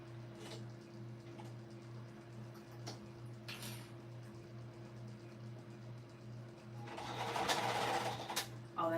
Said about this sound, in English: I'm just stitching along the bottom my regular stitch length and regular seam allowance.